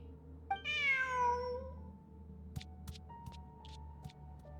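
A single drawn-out cat meow in the video game Genshin Impact rises and falls, followed by a few soft clicks and faint tones over a low steady hum.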